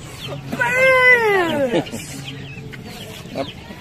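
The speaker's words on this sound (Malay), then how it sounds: "Bagi makan ayam. Ayam comel." A nearby chicken at a petting zoo lets out a long, drawn-out squawk, followed by a few short clucks against quiet background noise.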